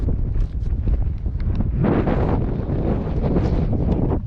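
Strong, steady wind roars and buffets the microphone continuously on Mt. Kilang in Apayao, Philippines, with gusts rising and falling and no voices.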